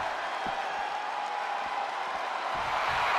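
Crowd in a wrestling arena during a last-man-standing match: a steady, broad roar of cheering and applause that holds at the same level throughout, with faint thumps underneath.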